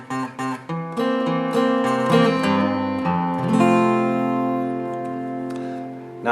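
Guitar intro to a song: a few short muted picked notes, then a run of bass notes and strummed chords that ends on a ringing chord fading out, with no voices.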